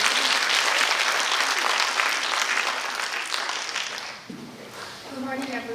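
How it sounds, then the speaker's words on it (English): An audience applauds to welcome a speaker at a talk on children's drowning prevention: loud, sustained clapping that thins out over a few seconds as a voice begins to come through at the end. "ladies and gentlemen, let's give her a big round of applause"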